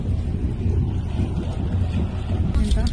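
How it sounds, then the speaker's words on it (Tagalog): A boat ride on water in Japan, with a continuous low engine and water rumble mixed with wind buffeting the microphone, fairly loud and steady, plus a brief clatter near the end. "Sasakay kami ng bangka."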